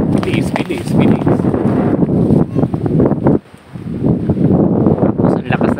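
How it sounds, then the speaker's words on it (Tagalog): Strong wind buffets the microphone near the Cabusao wetlands in Bicol, a loud rumbling roar that briefly drops out before gusting back, with people talking over it. "Tapos ang lakas na din ng hangin."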